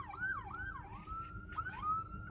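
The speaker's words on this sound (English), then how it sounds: "There's also an ambulance right over there," An ambulance siren wails in rising and falling sweeps, then settles into a steady tone and warbles again, heard at moderate distance and fairly faint with no talking.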